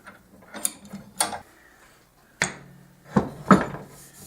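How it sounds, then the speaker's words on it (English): Metal wood clamps being loosened and taken off a glued canary wood bowl blank, giving several separate clanks, ratcheting clicks and knocks with pauses between, close and fairly loud. "We're going to take these clamps off of this thing."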